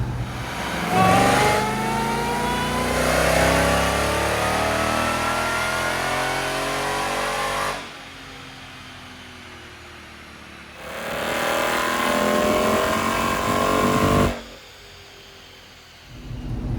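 A badly damaged Roush Mustang roars on a dyno through two long full-throttle pulls, each rising in pitch before cutting back to a lower idle-like drone; loud and close, with no speech.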